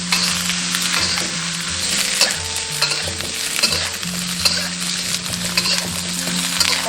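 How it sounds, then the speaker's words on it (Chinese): Beef brisket stir-fried in cold oil in a hot wok, a steady loud sizzle with recurring scraping strokes of the spatula and low clanks, continuous with no talk. "热锅倒冷油，下入牛腩，先把牛腩的水分炒干"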